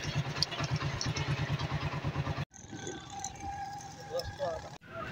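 A motorcycle engine idling close by with a fast, steady throbbing pulse for a couple of seconds, then a cut to quieter outdoor background.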